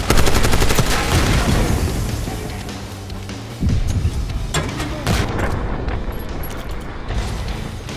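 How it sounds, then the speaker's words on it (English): Sustained rapid gunfire from a minigun in the PC version of Call of Duty: Black Ops 6, loud and dense with a steep drop-off near the middle before bursts of shots and booms return amid in-game combat noise. "Watch the minigun."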